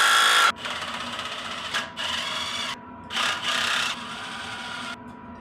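Tools work on an older dirt bike's rear sprocket, with a series of close, buzzing mechanical bursts, several seconds of loud grinding interrupted by short gaps.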